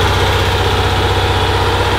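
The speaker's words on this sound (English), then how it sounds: "1800 RPM generator. And it's just extremely strong." A homemade 1800 RPM generator engine runs steadily, a loud, close, even low throb with a constant vibrating hum and no voices.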